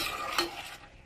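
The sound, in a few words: stirring curried Brussels sprouts in a frying pan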